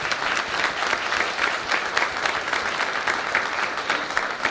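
An audience at an Earth Day business breakfast in Pittsburgh applauds the event sponsors, a steady wash of many hands clapping at moderate distance, even and continuous throughout.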